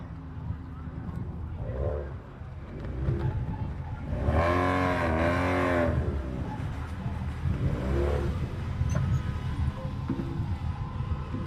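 Racing truck engine at a Legacy Racing event revving hard for a couple of seconds, a loud rising-and-falling roar over crowd and track noise, followed by a shorter second rev.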